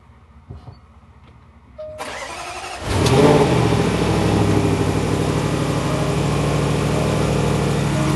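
After a quiet start with small clicks, a supercharged Rover car engine starts up and settles into a steady, loud, throaty idle close by.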